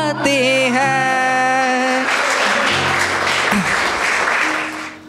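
An open mic poetry audience breaks into applause, a dense wash of clapping that swells in after sustained tonal music and fades out near the end.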